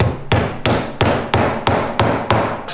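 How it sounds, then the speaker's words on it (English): Eight evenly spaced hammer strikes ring out sharply, each a crisp metallic tap on a countersink into wood, with a short decay, close and loud. "This is called a countersink, and this is called a hammer."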